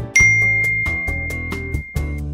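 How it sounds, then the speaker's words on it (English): A text message notification plays as a short chiming melody of bright, bell-like tones in an even rhythm, loud and close, over a sustained faint high ring, with no voices. "New text notification."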